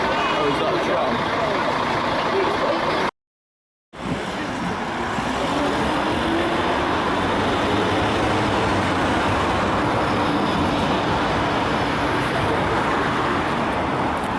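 A tram passes on a street in Poland with a steady, broad rumble and rolling noise that fills the scene, loud and continuous apart from a brief gap.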